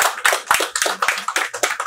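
An audience clapping at a French business coaching session, a loud close patter of hands in quick irregular bursts that fills the brief moment, with no speech.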